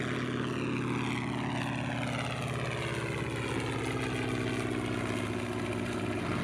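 A propeller-driven biplane drones steadily overhead, a continuous buzzing engine tone with a slowly shifting pitch as it passes, moderately loud and with no voices.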